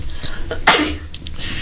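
A single sharp sneeze bursts out loudly, close to the microphone, in a live recorded talk, with faint room noise before and after.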